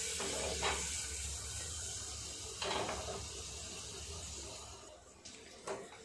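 Ginger garlic paste frying in melted butter inside a pressure cooker gives a steady, close hiss of sizzling, broken by a few brief clinks and scrapes of a utensil, with no talking.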